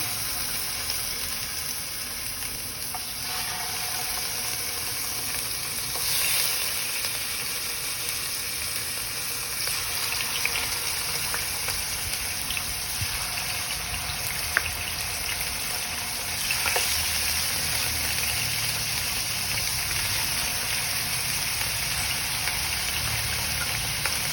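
Marinated pork for estofado fries in a pan, giving a steady, close hiss and sizzle that continues throughout without any break, with no voices over it.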